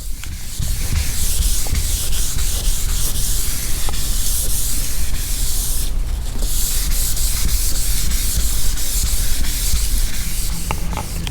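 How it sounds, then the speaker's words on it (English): Steady, loud abrasive rubbing of sanding car paint to remove orange peel, continuous for several seconds with only a brief dip partway through. "All the sanding is done."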